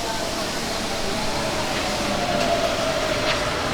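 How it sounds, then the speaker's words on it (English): A monorail train on the Sentosa line in Singapore runs with a steady, dense rumble and a faint whine throughout, heard from on board or close by. "I love a monorail. Always have."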